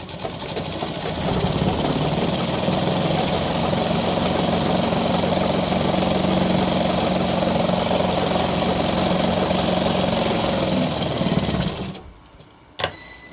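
A sewing machine stitches a shirt in a fast, steady mechanical whirr that runs loud and continuous for about eleven seconds, then stops, followed by a single click.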